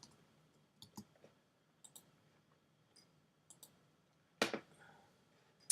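Computer mouse clicks during photo editing in PicMonkey, a handful of quiet, sharp, scattered clicks at irregular intervals, with one louder click cluster near the end, no talk.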